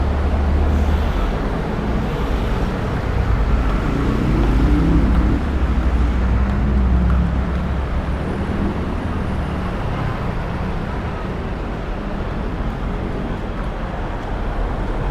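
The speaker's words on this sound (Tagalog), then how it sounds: "So ngayon, ang gagawin natin ay sasakay na tayo ng bus." A bus ride brings a steady, loud low rumble of engine and road traffic, continuous and unbroken, with little talk.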